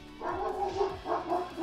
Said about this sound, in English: You guys are going to have to put up with the dog for a bit